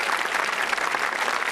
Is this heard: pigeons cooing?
no